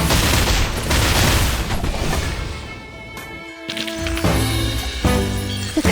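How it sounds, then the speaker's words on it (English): Gunshots in Reverse: 1999 during its Assassin's Creed collaboration, Spring in Florence: loud, dense shooting with crashing impacts and booms, a short lull partway through, then more blasts. "Aim and shoot"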